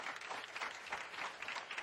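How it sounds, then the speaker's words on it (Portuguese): Church congregation applause offered to Christ, a quiet, continuous wash of many people clapping together, evenly sustained over its brief length with no voices. "Mais uma salva de palmas a Cristo."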